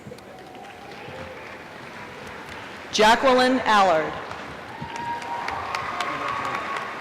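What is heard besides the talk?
commencement audience applauding graduates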